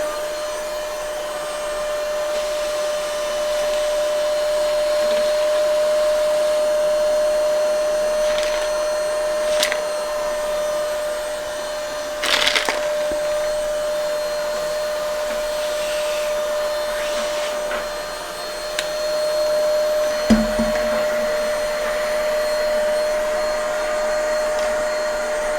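An Ingco cordless vacuum cleaner runs steadily at its maximum speed, a loud, continuous motor whine with an airy rush that holds nearly level throughout, broken by a few brief clicks and knocks near the middle and toward the end.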